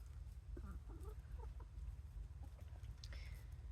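Backyard chickens cluck softly in short, scattered calls over a steady low rumble, with one brighter, sharper squawk near the end.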